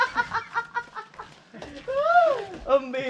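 Chickens cluck in short repeated bursts near a house under construction, with voices talking over and between the calls.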